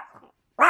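A dog lets out a single sharp, close bark after a brief softer whine or growl and a moment of silence.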